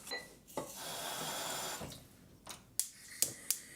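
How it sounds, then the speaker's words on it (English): Water poured into a pan of tamarind chutney seasoned with cumin, salt and black pepper, a steady close rush lasting a couple of seconds, followed by a few sharp clinks and taps. "And I'm just going to put some water in."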